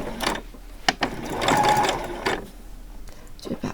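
A sewing machine stitches elastic onto a skirt, running in a short steady burst between a few clicks and handling noises, close and fairly quiet.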